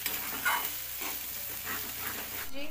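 Egg bhurji sautés in a pan over a medium flame, a soft, steady sizzle broken by intermittent scraping strokes of stirring, fairly quiet and close with no voices.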